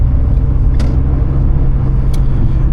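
A car's interior carries a low, steady road rumble while driving through heavy game-day traffic heading to a Packers stadium game, with a couple of brief clicks breaking the drone.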